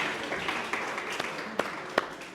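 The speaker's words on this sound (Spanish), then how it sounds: "Así que un aplauso, por favor, para nuestro panel" An audience at the Peru Carbon Forum applauds a panel with steady, moderate clapping that holds evenly for a couple of seconds, with a few sharper claps standing out near the end.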